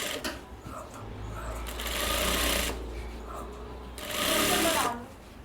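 A sewing machine stitches the collar of a kurti coat, running in two sustained bursts with a brief pause between, loud and close, with someone speaking underneath.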